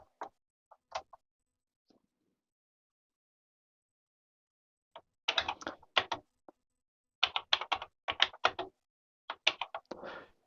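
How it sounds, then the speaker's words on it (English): Bursts of key clatter on a retro computer keyboard fitted with a new membrane, arriving in quick clustered runs of presses separated by pauses, fairly close and crisp with no talking. "Keyboard works very nicely now with the new membrane"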